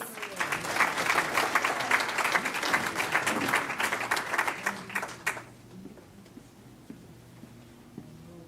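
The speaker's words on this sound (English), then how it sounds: "A round of applause." At a library archive launch, an audience bursts into lively applause for about five seconds before it cuts off abruptly, leaving a quiet room with faint murmurs and a few stray taps.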